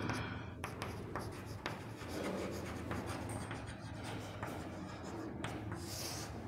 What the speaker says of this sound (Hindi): तो अब हम लिखेंगे वेंट ऑफ फैक्टर